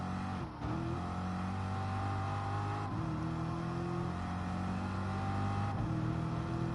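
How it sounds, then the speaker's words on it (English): A Corvette race car engine in the Gran Turismo Sport racing game revs high and climbs steadily through the gears. Three upshifts drop the pitch each time before it climbs again, close and continuous, with no talk. "You're saying you rev out the Corvette?"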